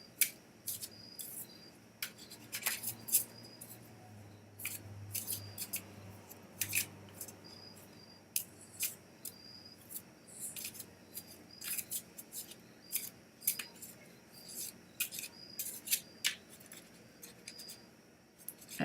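A deck of cards is shuffled by hand in quick bursts of crisp riffling snaps and soft clicks, close and fairly quiet, irregular clusters spread across the whole stretch with no talking.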